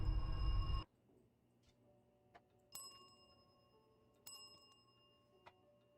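A single bell dings in the video game Erica, a bright metallic ring that lingers and then sounds again faintly a couple of times over a quiet, hushed room after a louder burst cuts off.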